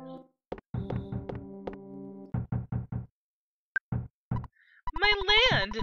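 Repeated knocking on a door in the video game EarthBound, with quick bursts of several knocks and short pauses between them, followed by a squiggly synthesized game voice blip.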